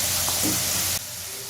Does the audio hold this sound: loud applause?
no